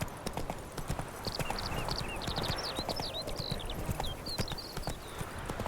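Roach, a horse in The Witcher 3, galloping with a brisk, steady clatter of hooves, while faint whistling bird calls chirp over the top.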